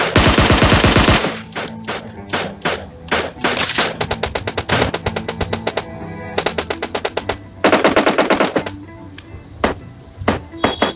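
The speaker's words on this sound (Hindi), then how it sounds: "तभी उसका एक साथी पीछे से हम पर गोलियां मार रहा होता है" Rapid bursts of automatic gunfire in PUBG, loud and close, with short gaps between volleys and a few single shots, in game-like combat.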